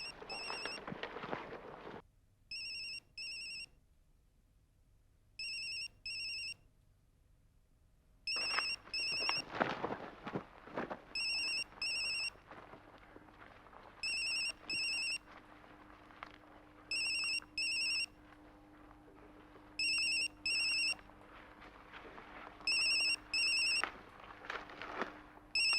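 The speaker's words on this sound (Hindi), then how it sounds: "बेल बज रही है।" A mobile phone rings with a repeating electronic ringtone in short, regular bursts, separated by pauses filled with rustling and background noise, seeming to grow louder as it is approached.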